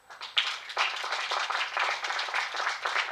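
An audience at a youth agribusiness competition breaks into applause, a dense steady patter of many hands clapping together that swells quickly and holds for a few seconds.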